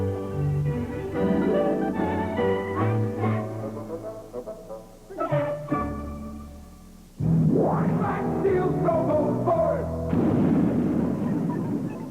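Toy cannon firing effects from a 1980s Max Steel RoboForce TV commercial, several booming blasts and laser-like sweeps mixed with music, ending in a loud rushing burst.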